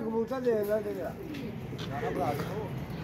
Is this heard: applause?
no